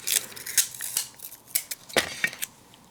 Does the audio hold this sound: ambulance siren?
no